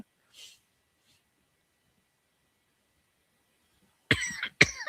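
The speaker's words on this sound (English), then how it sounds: "I started laughing too hard and got the coughing going." A couple of sharp coughs close up near the end, preceded by a faint breath and mostly quiet.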